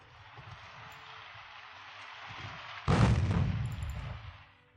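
Naval gunfire in the warship game Ultimate Admiral Dreadnoughts: a steady low rumble, then one loud, heavy gun blast near the three-second mark that booms and slowly fades away.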